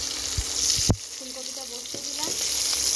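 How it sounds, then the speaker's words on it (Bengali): Cauliflower frying in hot oil in a wok, a steady close sizzle with a sharp clatter near the start and a few faint scraping sounds, no talking. "কড়ার তেল গরম হয়ে গিয়েছে, এবার ফুলকপিগুলোকে তুলে দেব"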